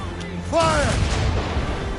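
Ship cannons fire in the video game Assassin's Creed Rogue. Loud, rumbling booms roll through the whole short stretch, and a crew voice calls out briefly over the blasts.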